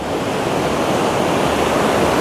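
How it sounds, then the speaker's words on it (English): Ocean surf at Padma Beach in Bali roars as a continuous loud wash of breaking waves at the water's edge near sunset, with no voices. "You can see it's quite wavy, this beach here."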